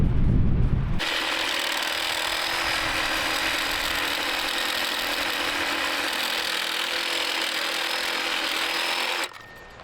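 A Sawzall reciprocating saw cuts steadily and loudly for about eight seconds while framing a barn addition, a continuous buzzing rasp that starts abruptly and cuts off near the end.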